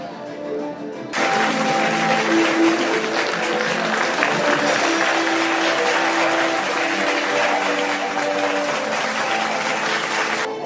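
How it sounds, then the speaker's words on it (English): Sustained applause from a large crowd at an alumni meet, steady clapping that starts after a second of quieter noise and continues loudly throughout. "Let's continue with the round of applause."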